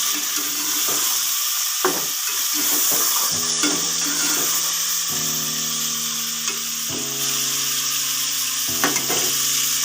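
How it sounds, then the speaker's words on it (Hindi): Ginger garlic paste frying and being stirred in a pan, a steady loud sizzle with scraping stirs and occasional clinks of the utensil against the pan, with no voices. "और ये है मेरे पास 1 चम्मच लहसुन अदरक का पिसा हुआ पेस्ट, इसे हम शामिल करके अच्छे से भून लेंगे।"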